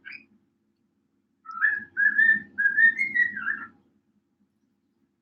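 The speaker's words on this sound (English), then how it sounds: "Yes, bird, I hear you, buddy." A bird whistles a short, warbling melodic phrase, clear and close, in a quiet room with a faint low murmur beneath.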